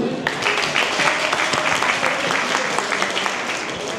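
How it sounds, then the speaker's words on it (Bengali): An audience at a community programme for newcomers in Lappeenranta, Finland, claps steadily in a dense, sustained round of applause that fills the room at a constant level. "সো প্লিজ সবাই ট্র্যাকটিল যেন হাততালি।"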